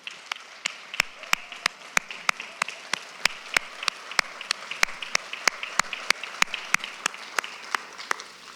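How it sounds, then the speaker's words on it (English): Audience applause for school principals at a district address, heard as regular, evenly spaced sharp claps in a steady rhythm, close and distinct rather than a dense crowd wash. "let's give you a round of applause for that"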